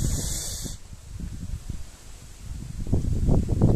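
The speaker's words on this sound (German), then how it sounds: "Ja, jetzt wird's windig." Gusty wind during cold, drizzly weather after prolonged rain near Ingolstadt buffets the microphone in low, rumbling bursts that swell louder toward the end, with a faint hiss underneath.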